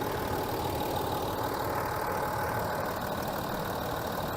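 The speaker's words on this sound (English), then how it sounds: "that car ticks over perfectly." A 2008 Range Rover Sport's 2.7 turbocharged V6 diesel ticks over at idle, a steady, even rumble with no obvious knocks or rattles, heard up close and alone.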